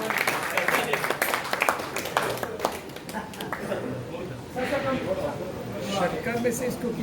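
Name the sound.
audience applause at awards ceremony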